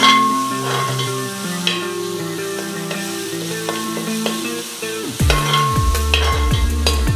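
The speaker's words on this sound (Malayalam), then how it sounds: "ഇനി അതിൻ്റെ ഒരു പച്ച ചുവ മാറുന്നവരെ ചെറുതായി ഒന്ന് വഴറ്റിയെടുക്കാം." Ginger and other ingredients for a Kerala meat roast are sautéed in a heavy-bottomed pan, a loud steady sizzle with stirring under a running background melody, no speech.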